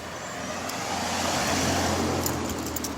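Road traffic at a detour in North Myrtle Beach, a steady wash of passing cars and trucks with low engine rumble swelling midway, moderately distant and without talk.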